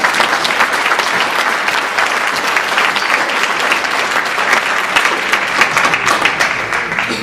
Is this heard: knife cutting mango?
no